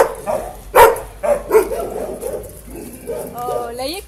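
A big-eared shelter dog barks in several sharp, loud yaps, then lets out a few rising whines near the end, with people talking close by between and over the barks.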